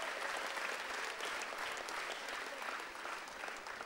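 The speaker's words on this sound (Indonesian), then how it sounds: "Tepuk tangan dong buat yang di depan berani." A stand-up comedy crowd applauds a brave volunteer in the front row, a steady, dense wash of clapping lasting several seconds, fairly distant and even.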